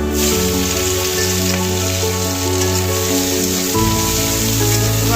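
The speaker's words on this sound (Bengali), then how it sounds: "মাছ ভরা তেলের মধ্যে পেঁয়াজ কুচিটা দিয়ে দিচ্ছি" Chopped onions frying in oil in a pan already holding fish, a steady dense sizzle running loud throughout with a low background hum.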